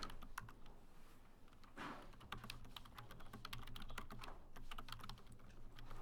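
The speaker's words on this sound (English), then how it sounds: "I could click on one place, click on a second place, and I could start typing." Steady rapid keystrokes tap on a computer keyboard nearby while text is entered in a drafting program, with a brief pause before the typing resumes at an even pace.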